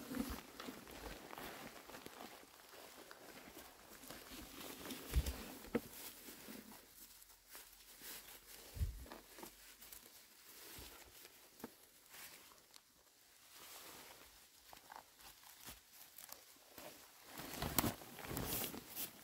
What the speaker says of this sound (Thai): ฝนกำลังตกลงมาปล่อยๆค่ะ